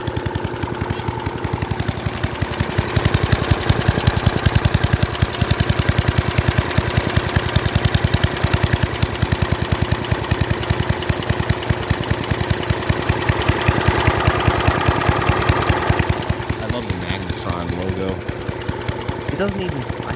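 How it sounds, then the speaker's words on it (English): A 1986 Snapper push lawn mower's small engine runs steadily close by for about twenty seconds with a dense, pulsing idle, and the pitch shifts slightly near the end. "It feels like a snapper engine."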